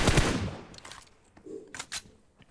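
Burst of automatic gunfire in PUBG Mobile knocking down an enemy, a loud rapid rattle at the start followed by a few fainter scattered shots.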